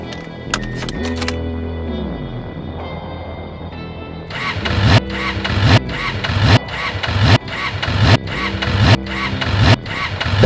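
A car engine that would not start in the morning: keys jangle, then a run of about eight loud, evenly spaced cranking bursts, each swelling as the starter turns it over, with no voices.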